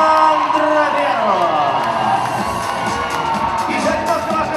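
A university concert audience cheers, whoops and applauds continuously before a show, a dense, loud crowd roar with shouting voices throughout.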